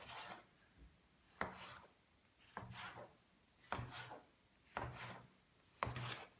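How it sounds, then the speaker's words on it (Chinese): A knife chops a rolled dough log into nine equal pieces on a wooden board, six crisp, evenly spaced cuts close up and alone in a quiet kitchen. "切成9个大小均匀的剂子"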